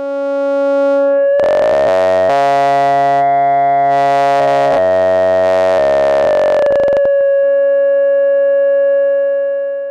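A Radical Frequencies DPVCO Eurorack synthesizer oscillator drones with shifting buzzy harmonics and a thin, airy hiss riding on top, changing timbre in steps before settling on a pure tone.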